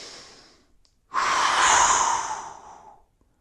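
A long, loud exhale rushes out over about two seconds after a brief quiet, during a resistance band arm workout.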